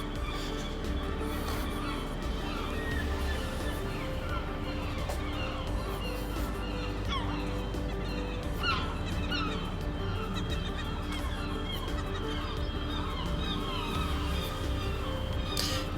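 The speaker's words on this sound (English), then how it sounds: "You can definitely tell you're close to the water with all the seagulls you can hear" Seagulls call repeatedly near the water in a busy downtown street setting, with overlapping squawks and honking cries against a steady background hum for the full stretch.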